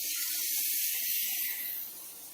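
Brisket meets a hot oiled pan with a loud, bright sizzling hiss that flares at first, then settles and fades over about two seconds, with a few soft clinks underneath and no voices.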